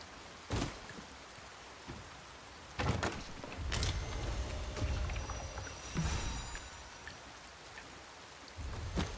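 Steady rain patters down in Dragon's Dogma 2, with occasional louder splashes and low rumbling thuds rising and falling, quiet overall and with no voices.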